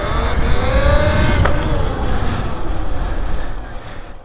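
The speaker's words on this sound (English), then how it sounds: "Here's a power wheelie." A Talaria Sting R MX4 electric dirt bike lifts into a power wheelie, its motor giving a loud rising whine over heavy wind rumble that fades near the end.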